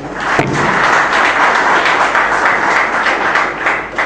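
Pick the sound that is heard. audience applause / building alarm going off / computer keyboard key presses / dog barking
audience applause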